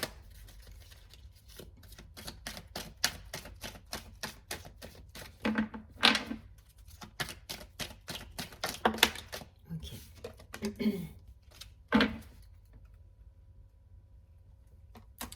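Tarot cards are shuffled and drawn, making a run of quick close papery flicks and snaps, with someone speaking at times between them.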